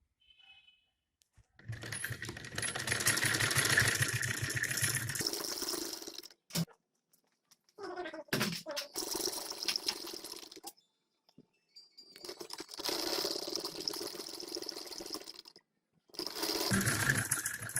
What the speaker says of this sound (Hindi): चलिए अब सिलाई लगाते हैं।